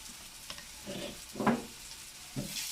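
Ginger garlic paste frying in a pan gives a soft, low sizzle, broken by a few stirring scrapes and one brighter clatter near the middle.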